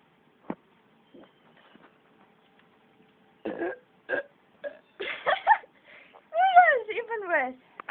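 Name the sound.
burping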